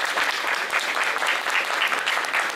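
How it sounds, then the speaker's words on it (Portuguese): Audience at a press conference for the publisher Editora JBC breaking into dense, continuous applause that stays steady and full for the whole stretch, with no speech over it. "que recebe a salva de palmas de vocês nessa noite"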